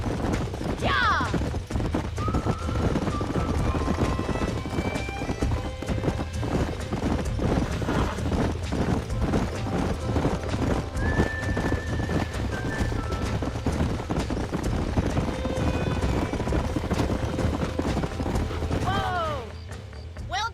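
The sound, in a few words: horses galloping and neighing in video game Red Dead Redemption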